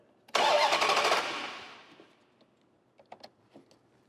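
A 2013 Dodge Charger SRT8's starter motor cranks loudly for about a second, then winds down and fades, followed by a few faint clicks and taps in a quiet garage.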